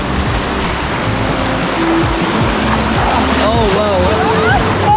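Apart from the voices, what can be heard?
boat going through river rapids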